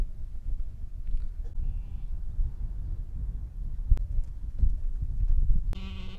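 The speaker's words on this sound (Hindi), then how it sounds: "यहाँ साथ में उन्होंने बकरियां भी रखी हुई हैं" Goats kept at a camel farm in Riyadh bleat a few times, with one short, clear call standing out near the end over a low outdoor rumble and wind.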